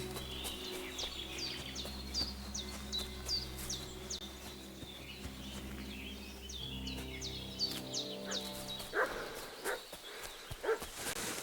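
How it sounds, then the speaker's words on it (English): A dog barks repeatedly in the video game Kingdom Come: Deliverance 2, a series of short, fairly distant barks over chirping birds and a low steady drone. "What's that dog making such a fuss about?"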